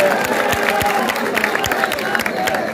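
A crowd at an Uddhav Thackeray political rally in Ulhasnagar cheers and claps, a loud dense roar with scattered rhythmic claps and whistles throughout the short stretch.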